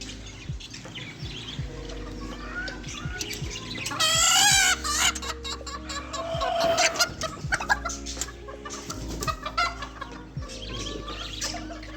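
Chickens cluck and call repeatedly, close by, with a rooster-like squawk partway through over a steady background hum.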